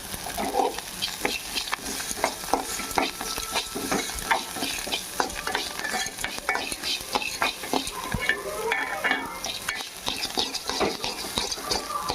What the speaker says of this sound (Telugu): కొత్తిమీర క్రిస్పీగా వచ్చిందాక వేసుకోవాలండి